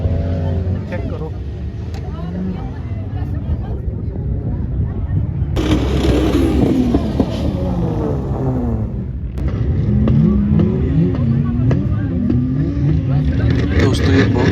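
Cars drift and rev on desert sand in front of a large crowd, with engines roaring and sliding constantly, loud and close, and people talking and shouting over them.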